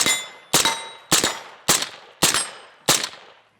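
Six sharp suppressed 5.56 rifle shots from a Colt upper fitted with an Exigent Defense suppressor, each a hard crack with a ringing, metallic decay, spaced roughly half a second apart, loud and close with no talking.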